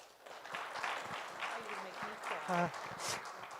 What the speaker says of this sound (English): Please give these two ladies a round of applause.